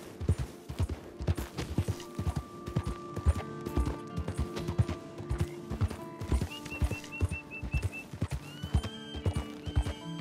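Hooves of a sturdy horse clip-clop in steady rhythm in the Red Dead Redemption 2 video game, close and clear, with a whinny rising partway through.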